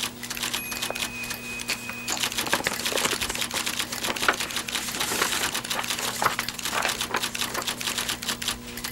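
Keys on an office keyboard are tapped in quick, irregular bursts, with soft clicking and clacking at moderate distance and a faint steady hum behind.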